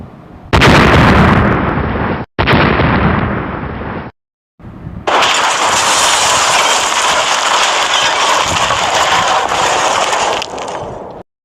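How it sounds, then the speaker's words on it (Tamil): Loud game explosions in Free Fire: a harsh, booming blast that breaks off briefly, drops to silence, then returns as a long roaring burst that holds for several seconds before cutting out. "அங்கே பெரிய குண்டு வெடிப்பே நடக்குது"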